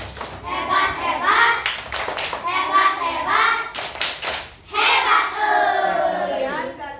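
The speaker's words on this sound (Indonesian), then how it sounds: "Tepuk hebat." A classroom group claps the rhythmic "tepuk hebat" pattern during a teacher's lesson, heard as bursts of claps between loud, overlapping children's voices calling out.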